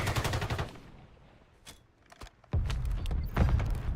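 Rapid bursts of automatic gunfire from a ranked multiplayer shooter game, loud and close at the start, then sharp isolated shots, then heavy sustained firing again over a low rumble.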